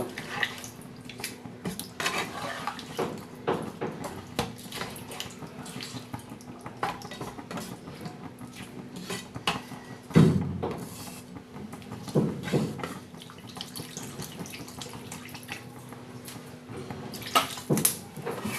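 Water added to a cooking pot of boiled potatoes for a paneer curry, with clinks and scrapes of utensils against the pot and a few louder knocks, close and intermittent.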